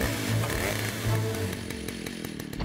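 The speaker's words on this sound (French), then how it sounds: "Je vais mettre la tronçonneuse en marche." A chainsaw engine sputters to life and revs loudly, then settles into a rapid buzzing idle, close by.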